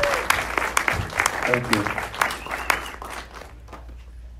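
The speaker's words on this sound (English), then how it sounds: "give a big round of applause" Audience applause for a director at an interview screening of Lady Street Fighter: scattered, uneven clapping from a modest crowd, with a voice briefly speaking over it before the clapping thins out and fades.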